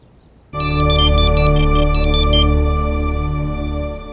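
A mobile phone ringtone sounds loud and close on a call back, a bright sustained electronic melody with rapid pulsing high notes that starts abruptly and rings steadily to the end.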